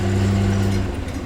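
A shop truck's roughly 140-horsepower engine idles close by with a steady, deep, throaty rumble and strong low hum throughout, sounding aggressive and loud.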